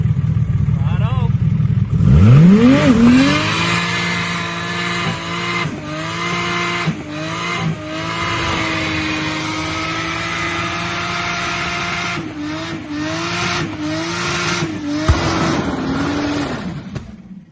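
An AMG Mercedes engine is revved hard as the clutch drops, its pitch surging up and sagging back in repeated swells, loud and close.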